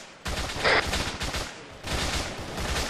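Rapid gunfire in the ARMA III co-op military shooter, with dense overlapping bursts of shots and automatic fire that continue almost without pause for a few seconds, loud and close, with no talking.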